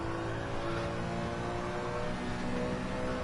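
Steady engine drone from a racing car in Gran Turismo 7, held at a constant pitch while accelerating out of a corner, with tyre and road rumble underneath and no talk.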